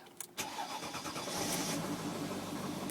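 A cold 2003 Mercedes ML 400 engine cranks briefly and catches, then settles into a steady, loud idle close by, with no talking.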